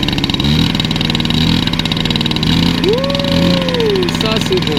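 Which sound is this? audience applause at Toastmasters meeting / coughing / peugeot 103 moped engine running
peugeot 103 moped engine running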